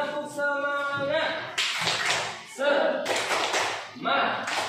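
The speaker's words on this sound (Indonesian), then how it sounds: "Gimana kalau tepuk semangat sama-sama?" A class of students performs the 'tepuk semangat' rhythmic clapping chant; bursts of group clapping alternate with chanted voices, close and fairly loud.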